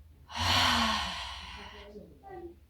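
A person loudly imitates snoring: one long, harsh, breathy snore that trails off, then a shorter, softer snort.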